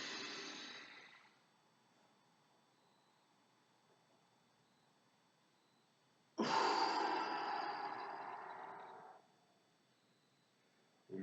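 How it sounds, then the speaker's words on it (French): Two deep, slow breaths of air through the nose during an end-of-session stretching and relaxation routine, each a loud, breathy rush lasting a second to three seconds, separated by a long quiet hold. "on inspire par le nez"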